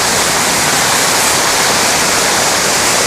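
Floodwater rushes through a mosque flooded by heavy rain, a loud, steady, close roar of churning water that continues unbroken with no voices.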